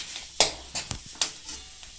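Spiced potato filling for aloo paratha, mixed with ginger, chilli and cumin, gives a run of soft, close scraping and tapping strokes, roughly five or six evenly spaced, against a quiet background.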